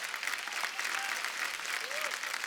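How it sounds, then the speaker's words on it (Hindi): Studio audience on The Kapil Sharma Show applauding four guests after a dance, a soft, continuous sheet of clapping heard at a distance, with faint voices and a brief tonal sound riding over it. "हमारे चारों मेहमानों के लिए जोरदार तालियां हो जाएं"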